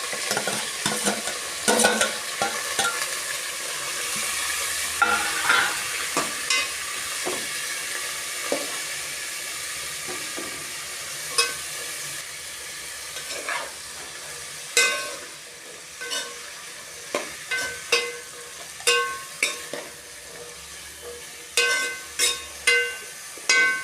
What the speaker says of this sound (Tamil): காய் நல்லா ஒரு அஞ்சு நிமிஷம் எண்ணெயிலே நல்லா வதங்கட்டும்